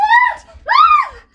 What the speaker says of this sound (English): if you hear screaming or kids rush in here